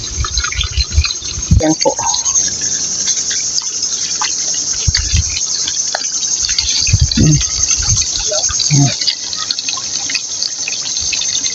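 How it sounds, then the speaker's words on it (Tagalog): Cool water pours through a pipe into a shrimp fishpond, a steady splashing and trickling wash with occasional low gurgles and knocks, while a voice speaks briefly. "Malamig-lamig yung umaagos na tubig."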